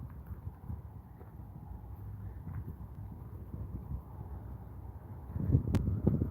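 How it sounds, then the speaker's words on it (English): Low, blustery wind rumbles against the microphone outdoors near a freeway, swelling into stronger gusts toward the end. "And it's really windy today."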